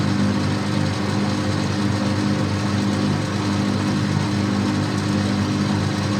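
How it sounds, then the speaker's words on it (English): A lathe drills all the way through a bronze bush, with a steady, continuous machine hum and faint whine holding constant throughout, close and unbroken, with no talking. "Oh, I do enjoy using the lathe."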